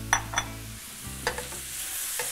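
A finely minced sofrito of carrot, celery and onion sautés for a ground beef ragu, a soft sizzle broken by several sharp stirring scrapes and knocks, close up and without speech.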